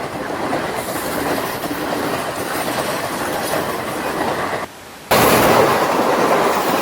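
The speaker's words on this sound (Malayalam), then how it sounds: "അതാ ട്രെയിൻ വരുന്നു" A train rolls past a level crossing near Kozhikode beach, a loud, close, steady rumble with rhythmic clatter from the wheels that briefly dips, then swells again.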